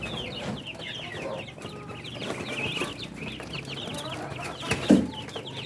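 Rhode Island chickens cluck and chirp continuously, a busy flock close by with overlapping short calls and one louder squawk near the end.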